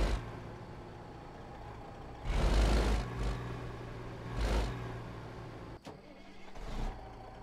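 A truck engine in American Truck Simulator revs up in bursts under aggressive acceleration, with quick gear changes between surges over a steady low idle drone, in a snowstorm on Texas roads.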